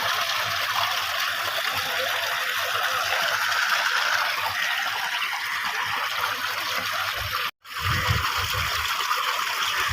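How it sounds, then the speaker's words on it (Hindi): Water is poured over the hot tyres of a donkey cart in a village: a steady, close trickling and splashing continues for several seconds, cuts out briefly, then resumes. "गधा गाड़ी के उनके ऊपर इसलिए पानी डाल रहा है कि गर्मी ज़्यादा है"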